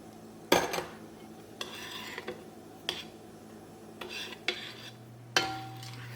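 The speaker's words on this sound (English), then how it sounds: "with a metal spoon we're going to carefully sift the flour and fold that in" A metal spoon folds sifted flour into a sponge mixture in a bowl for sticky toffee puddings. Soft scraping strokes are broken by a few sharp clinks of metal on the bowl, close and fairly quiet, with gaps between strokes.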